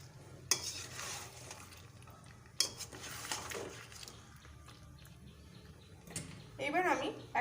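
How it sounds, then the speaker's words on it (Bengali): Mutton and potatoes are stirred and turned in a pot, a few distinct scraping strokes and clinks over a soft sizzle, close but fairly quiet. "ভালো করে আবার এপিট ওপিট করে নাড়াচাড়া"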